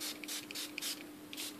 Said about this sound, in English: And I also want to spray my palette.